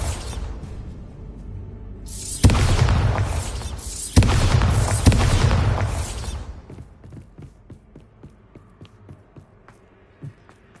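Bombarda spell explosions in Hogwarts Legacy: two loud, booming blasts a couple of seconds apart, each with a whooshing rush that slowly fades into faint clicks and rattles.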